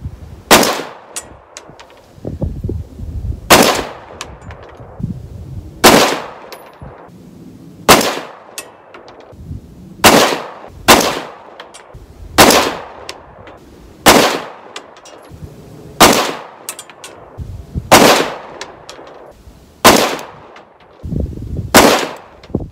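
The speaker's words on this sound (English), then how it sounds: "I want to see if that trigger is going to ignite this Tula steel cased, you know, hard primer" A Bushmaster rifle fitted with a DM2S trigger fires Tula steel-cased, hard-primer ammunition outdoors. Around a dozen loud, sharp single shots come at irregular intervals a second or two apart, each one ringing off with a metallic clang.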